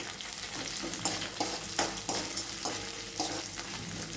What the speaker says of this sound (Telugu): 1 స్పూన్ జీలకర్ర, 3 ఎండుమిరపకాయలు మొత్తము మనము బాగా వేయించుకోవాలి